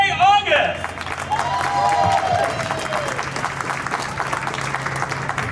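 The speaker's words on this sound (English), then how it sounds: "give a big round of applause for Jay August!" An audience at a comedy evening claps and cheers for comedian Jay August, steady applause filling the room while a voice speaks over it at the start.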